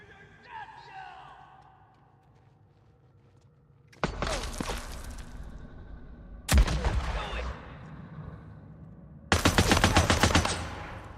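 Heavy machine gun fire from a heavy gunner enemy in the Days Gone video game, loud sustained bursts arriving in three separate volleys after a quieter stretch with faint background voices.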